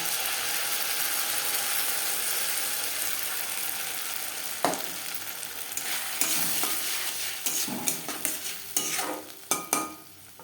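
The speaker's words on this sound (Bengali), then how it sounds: "রসুনের সাথে কাঁচা লঙ্কা এক দু মিনিট নাড়াচাড়া করে নেওয়ার পর" Garlic and green chillies frying in a pan for bean paste, a continuous hiss with scraping stirs growing more frequent and clattery toward the end.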